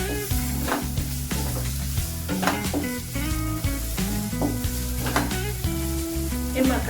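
Mixed vegetables with carrot, capsicum, boiled peas and boiled corn sizzle in a hot pan while being stirred, with steady frying hiss and repeated scraping, clattering strokes close up.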